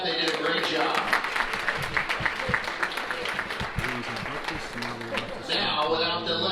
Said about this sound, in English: How about a round of applause for our Marigold staff?